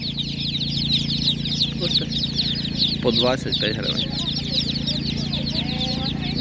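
Chicks peep continuously from crates at a Ukrainian animal market, a thick, rapid chorus of high cheeps over a steady low hum, while a person talks nearby.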